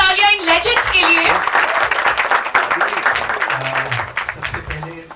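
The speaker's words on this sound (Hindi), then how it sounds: "एक बार जोरदार तालियां इन लेजेंड्स के लिए" Loud, sustained audience applause and cheering at a film trailer launch event, with clapping swelling and then thinning out over several seconds while voices carry beneath it.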